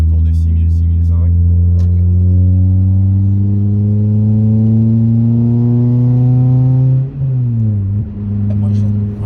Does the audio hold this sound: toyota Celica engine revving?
yes